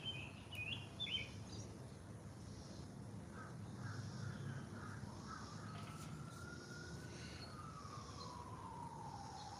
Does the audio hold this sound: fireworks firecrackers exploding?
no